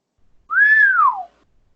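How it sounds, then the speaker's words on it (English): One clean human whistle, a single smooth note that rises, holds, then slides downward, sounding close and clear against near silence. "that's the most cleanly I've ever done that whistle before"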